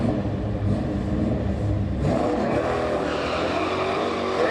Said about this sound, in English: I love that fucking muscle car.